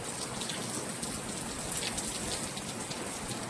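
Steady rain falls throughout, a dense hiss of drops hitting surfaces with occasional louder patters, fairly close and unbroken.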